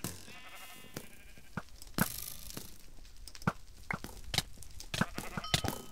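Minecraft Sheep Wars gameplay with sheep bleats scattered among sharp clicks, dings and hits in a busy run of game sounds, the bleats brief and moderately loud.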